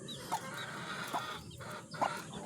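A mother hen with six young chicks gives soft, intermittent clucks, three distinct calls spaced about a second apart, close by in a quiet farm setting with no talking.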